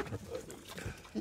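Pigs and piglets on a pig farm in Goyla village, Muzaffarnagar district, give short grunting, snorting calls in a few separate bursts, close by, with the loudest burst at the end.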